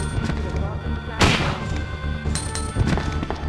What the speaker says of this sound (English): This Magnum is also very powerful. Look at these headshots.